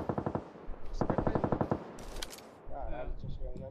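Rapid automatic gunfire in a multiplayer video game, two tight bursts of evenly spaced shots followed by scattered game effects, with a player speaking faintly underneath.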